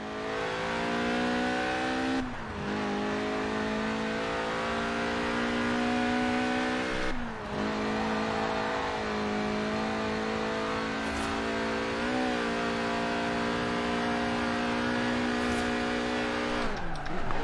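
The mid-engined Lotus Elise Sport 190, a tuned, stripped-out 90s roadster in Forza Horizon 4, holds a steady high engine drone with harmonic whine, dipping briefly at gear changes before climbing again.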